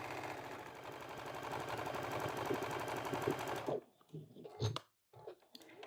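A sewing machine stitches seams on a flannel patchwork pillow cover in a steady rapid chatter for several seconds, close by, then stops, followed by a few quiet handling clicks and bumps.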